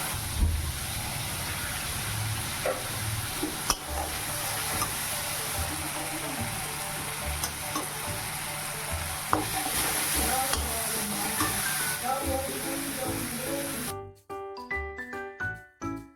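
Spice paste with chilli and tomato fries in a pan, a steady close sizzle with stirring scrapes throughout, then cutting off near the end into a few sharp clatters.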